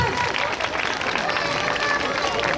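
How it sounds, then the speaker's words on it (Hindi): A crowd at a stage event claps loudly as directors walk on stage, the dense clapping blended with voices and some tonal sound over the top. "जोरदार तालियां बजाइए।"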